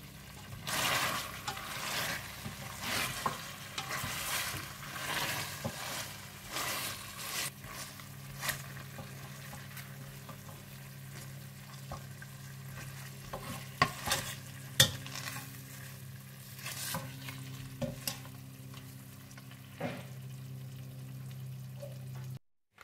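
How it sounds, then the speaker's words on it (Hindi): Mutton is stirred and fried over low heat, with a soft continuous sizzle broken by repeated scraping strokes of a spoon in the pan, all fairly quiet and without talking. "तो आप इसे हल्की आंच पर रखकर भून लीजिएगा।"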